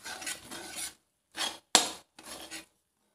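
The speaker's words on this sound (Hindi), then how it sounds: "इसे मसालों के साथ अच्छे से मिक्स कर लेंगे।" Short scraping strokes of a spoon stirring turmeric and coriander powder through aloo methi in a pan, four separate rasping bursts with a sharp clink in the middle, close and alone.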